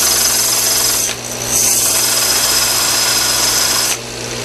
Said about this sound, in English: Spin them around like that on the belt sander a little bit.